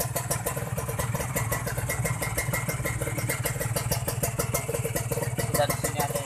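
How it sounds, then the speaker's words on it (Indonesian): Kawasaki Ninja R two-stroke motorcycle being revved after carburetor tuning, a loud, steady, buzzing engine with a rapid pulsing rhythm that holds close and constant throughout. "Kita coba tarik gas lagi teman-teman"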